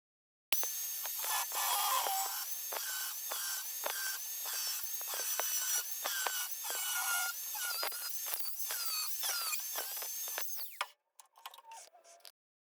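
A power tool cuts Inconel 625 pipe, giving a loud, continuous high whine with rapid ticking and chattering, then stops abruptly near the end, leaving a few short bursts.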